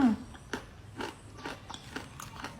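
Someone biting and chewing crunchy baked vegetable snacks such as dried okra and carrot, close up, with a series of crisp crunches spaced about every half second over a soft background.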